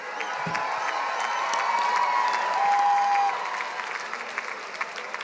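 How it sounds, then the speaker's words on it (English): Commencement ceremony crowd applauding the Master of Public Administration graduates at the 2018 USC Price ceremony, a dense sustained round of clapping with some cheering, evenly loud throughout. "Let's give a round of applause to the Master of Public Administration graduates"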